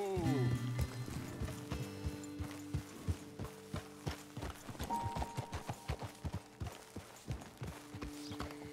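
Horse hooves in the video game Red Dead Redemption 2 clip-clop in a steady walking rhythm, accompanied by a horse whinny at the start and a tonal musical backdrop.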